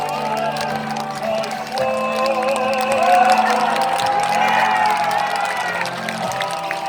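Crowd at a Yoon Suk-yeol presidential campaign rally outside E-Mart in Yangsan, South Korea, applauding and cheering steadily throughout, a dense wash of clapping and whoops with a voice over a loudspeaker.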